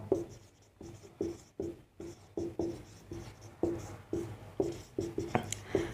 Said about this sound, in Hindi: देखिए समझाने के लिए मैं लिख रहा हूं